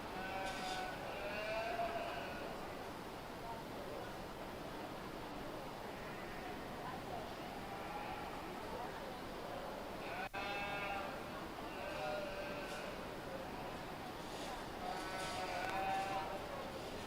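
Sheep, including commercial yearling ewes, bleat repeatedly in a fair livestock show barn, calls rising from mid-distance at a moderate level over a constant crowd hum, with a few cattle-like moos mixed in.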